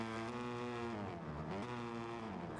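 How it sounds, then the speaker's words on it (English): Racing car engine in Gran Turismo 7, a Porsche among the cars in an online lobby race, droning steadily with strong harmonic whine that dips and rises through gear changes and revs, continuous and fairly loud with no talking. "somebody's car sounds a bit like it needs a tune"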